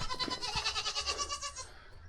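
Several goats bleat in the morning in a farm pen, giving loud, close, wavering cries that overlap in a rapid pulsing run and then fade near the end.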